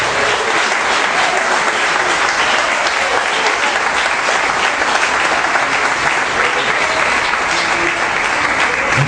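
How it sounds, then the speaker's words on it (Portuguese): A church congregation applauds the Lord during a worship service, sustained loud clapping from many hands that stays dense and even throughout without voices standing out. "Pode aplaudir ao Senhor."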